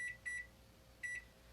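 An RV oven timer being set to 15 minutes gives three short, high electronic beeps, two in quick succession and a third after a pause, fairly faint over a quiet hum.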